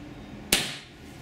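A Tiberius T8.1 paintball marker fires once at normal pace during a maximum velocity test. A single sharp, close crack rings out and fades quickly against a quiet background.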